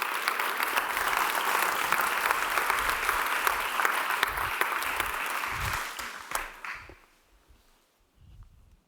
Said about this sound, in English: please join me in a great applause to our panelists.